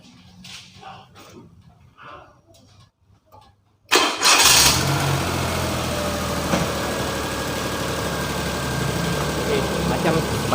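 A Proton Kelisa with a cold engine cranks and starts at once, then settles into a steady idle close by, after a stretch of quiet talking and faint clicks before the start.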